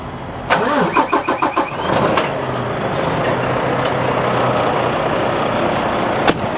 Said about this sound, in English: since we're jump starting the trailer, we'll start the truck up.